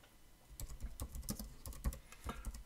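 Keys tapped on a computer keyboard while entering a calendar item, a close, quiet burst of irregular clicks at a steady typing pace with no voices.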